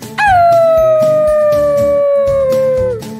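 A voice imitates a wolf with one long, loud, sustained howl that slides slowly downward in pitch, close and alone, lasting about three seconds.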